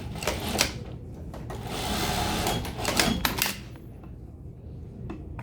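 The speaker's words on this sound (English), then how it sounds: "sew the top, and sew the bottom" A sewing machine stitches the top and bottom of an open-end lap zipper on a bustier. Short bursts of fast mechanical whirring sit close to the mic and are broken by pauses and light clicks.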